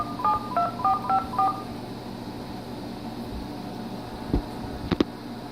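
Telephone keypad DTMF tones on a home phone line during a speakerphone test call: about five short two-tone beeps in quick succession, clear over a steady hum, followed by quieter background noise and a couple of faint clicks.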